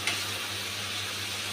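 Whole garlic cloves go into a ginger, garlic and green chilli paste frying in a pan, a steady close sizzle with a brief sharper burst at the start, no voices.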